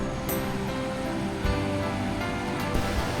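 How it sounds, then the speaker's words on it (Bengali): River water at Rasmohana, Ghatsila, rushes over rocks like a small waterfall, a loud, steady, broadband roar that fills the whole clip without pause. "জলের স্রোতটা এমন হয়েছে, একটা ঝর্ণার মতো তৈরি হয়েছে"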